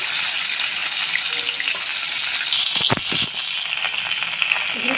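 Pointed gourd (potol) pieces fry in hot oil with a loud, dense, unbroken sizzle close by, interrupted once by a quick stirring clatter.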